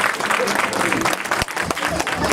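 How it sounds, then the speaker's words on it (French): A conference audience at a political party event in Nice applauds, with dense, continuous clapping close and loud, mixed with crowd murmur and a speaking voice over it. "Applaudissez s'il vous plaît."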